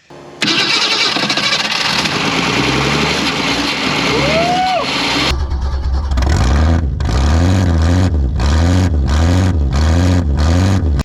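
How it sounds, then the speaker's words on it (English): A 1961 Ford Falcon wagon's 170 engine, long parked in the woods, runs loudly up close, a steady rough roar that shifts into a rhythmic, pulsing idle with repeated surges. "Surprisingly, as rough as this car is, as long as it had been sitting, it did run, and it run pretty well."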